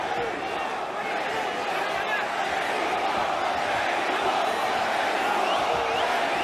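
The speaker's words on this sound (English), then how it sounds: "There you hear the Mexico chants from his very pro-Mexican crowd" Pro-Mexican boxing crowd in an arena chanting "Mexico" during a fight, a loud, continuous mass of voices with rhythmic chanting rising under the din.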